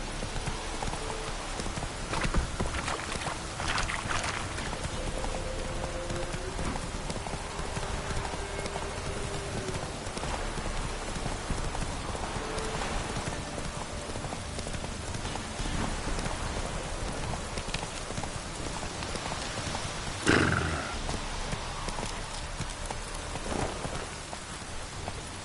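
Roach, the horse from The Witcher video game, clip-clops along with steady, rhythmic hoofbeats under a constant patter of rain, with no talking.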